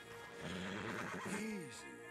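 A stallion in the video game Red Dead Redemption 2 gives a single loud neigh, a rising then falling whinny close by, with faint hoof clatter and someone speaking underneath.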